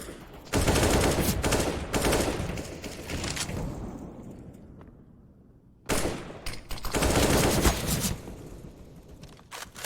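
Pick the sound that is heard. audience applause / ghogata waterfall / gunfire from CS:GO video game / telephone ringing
gunfire from CS:GO video game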